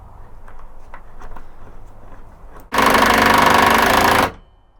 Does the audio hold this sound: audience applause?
no